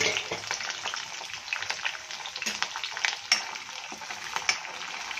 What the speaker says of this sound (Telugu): వీటన్నింటిని వేయించుకోవాలి.